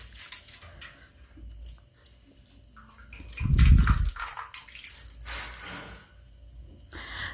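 Water is squeezed by hand out of boiled soybeans, with irregular wet splashes and drips and one dull, squelchy thump in the middle. Small clinks sound in a quiet kitchen, with no talking.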